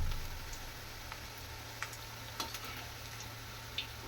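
Rice flour chakli deep frying in hot oil, a steady soft sizzle and bubbling hiss with occasional faint ticks and pops, heard alone without talk.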